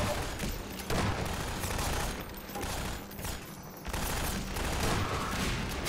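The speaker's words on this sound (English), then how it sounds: "I'm gonna try all different types of guns here." Rapid bursts of gunfire from a range of different guns in a video game, loud and dense with overlapping shots and booms throughout, no talking.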